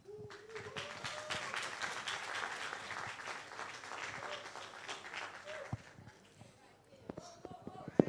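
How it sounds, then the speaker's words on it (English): Applause rises from a talent show audience after a singing performance, a dense clatter of hands for several seconds that fades into scattered claps, with voices calling out over it. "Please, another round of applause for Fortunata."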